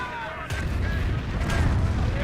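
In a Company of Heroes match, a rocket barrage strikes German Grenadiers with repeated booming impacts over a continuous rumble, while a commentator talks.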